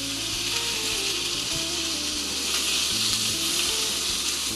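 Tempeh and bok choy sizzling in a hot pan, a steady close frying hiss with occasional stirring scrapes, no talk.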